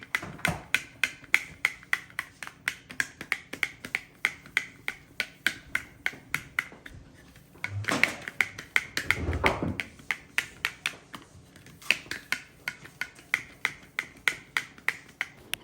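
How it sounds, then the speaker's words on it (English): Two fondant smoothers pressed together again and again while working around a fondant-covered cake, giving a steady string of sharp clapping snaps. A few louder rustling handling noises break the rhythm midway. "I get my two smoothers and then I start pressing them together"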